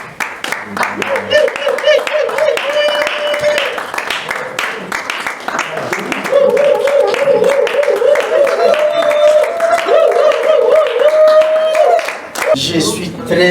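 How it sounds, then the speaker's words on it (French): An audience applauding at an award ceremony in a hotel conference hall: dense, continuous clapping throughout, loud and close, mixed with sustained music and a voice. "Applaudissements s'il vous plaît"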